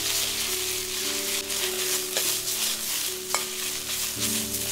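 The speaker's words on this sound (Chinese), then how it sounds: "再下入备好的酸菜丝，煸炒2到3分钟。" Shredded pickled Chinese cabbage (suancai) stir-fried in a wok after dried chilies are fried, giving a steady, close, dense sizzle with light stirring scrapes throughout.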